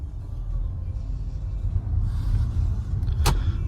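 A 2015 Hyundai Grand Santa Fe with a 2.2 diesel engine and 4WD pulls away in drive, its low engine rumble steady and close, with a faint whir and a brief click or squeak near the end.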